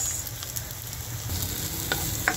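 Garlic, onion and marinated pork sautéing in a pan for stir-fried cauliflower, a steady bright sizzle with occasional crackles and spatula taps, close and continuous with no talking.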